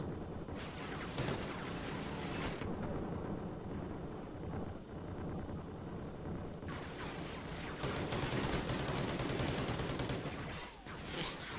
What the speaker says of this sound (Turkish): Kim sıkıyor bana?